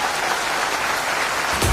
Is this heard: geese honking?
no